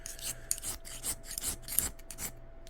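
A hand file scrapes across a heat-treated beryllium RC boat propeller in a series of quick, rasping strokes, each a short gritty burst, close and fairly quiet.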